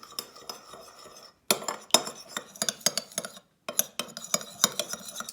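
A spoon stirs fresh chili paste dipping sauce in a bowl, making rapid close clinks and scrapes in busy bursts with two brief silent gaps and no voices.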